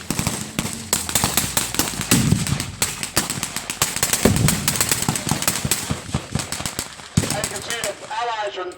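A .30 caliber machine gun firing at a WWII battle re-creation, with long rapid bursts of sharp, loud shots and a few heavier blasts, dense and continuous before a short lull and a final faint stretch.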